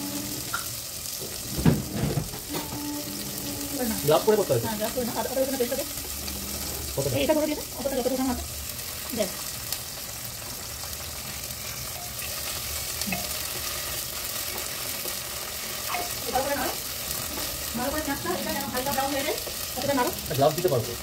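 Cabbage, potato and peas frying in splattering oil with onion and green chillies, dense crackling sizzle under repeated scraping stirs, with brief voices talking over it.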